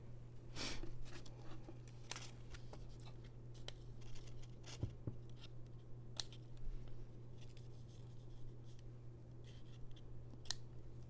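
Scissors trimming paper for a handmade greeting card, a series of sharp, sparse snips spread over a quiet room with a steady low hum underneath.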